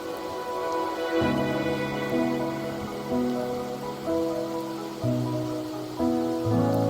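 Steady rain falls and patters on surfaces in the video game Wuthering Waves, a continuous even wash of drops beneath soft layered music tones, with no voices.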